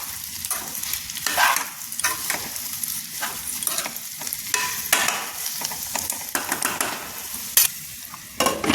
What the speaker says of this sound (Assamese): আৰু এতিয়া ধুনীয়াকৈ লৰাই দিওঁ আৰু এতিয়া গুড়খিনি পূৰা গলি যাবলৈ দিব লাগিব